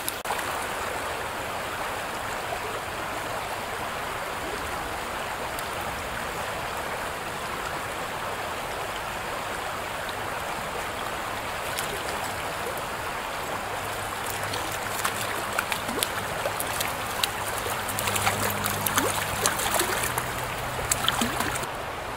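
Water of Spring Creek, a shallow trout stream in central Pennsylvania in winter, flows steadily as a soft, even rush that grows slightly louder and busier toward the end.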